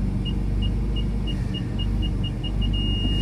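A BMW M3 manoeuvres out of a tight garage with its engine rumbling low and steady, while a parking sensor's beeps quicken and merge into a continuous tone as the car closes on an obstacle.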